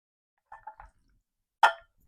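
Swallowing sounds from a person drinking water in a quiet room: a few soft gulps followed by one sharper, louder sip or swallow, with no talking.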